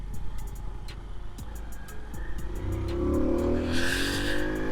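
A 1995 Honda CD50 Benly 50cc motorcycle engine runs and shifts down into second gear. Its steady, buzzy drone rises and grows louder toward the end, heard close with a revving tone and no talking.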